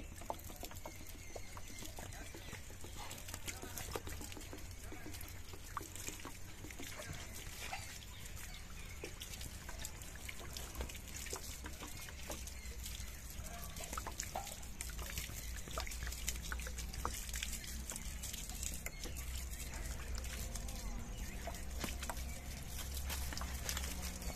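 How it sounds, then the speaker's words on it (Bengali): Water is sprinkled steadily onto a spinach seedbed in soil, a quiet continuous patter and trickle of droplets lasting the whole time, with faint birds in the background. "এই যে আমি জল দিচ্ছি"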